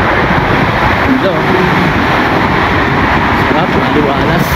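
Steady, loud wind blowing outdoors, a continuous broadband rush with a faint voice buried beneath it.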